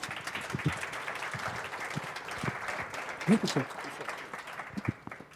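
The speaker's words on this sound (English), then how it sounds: "A round of applause for Professor Nonga, please." An audience at the South African Mathematics Foundation annual awards function applauds Professor Nonga, with a steady, moderate clatter of clapping throughout and a few louder individual claps and a brief voice near the middle.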